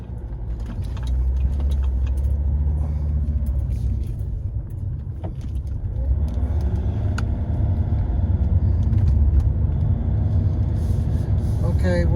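A car drives along a road from Bray toward Greystones in County Wicklow, Ireland, its engine and tyre rumble steady and close throughout, with low road noise swelling slightly partway through.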